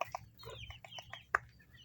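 Chickens clucking nearby, a series of short, scattered clucks and squawks in irregular rhythm over a low background hum.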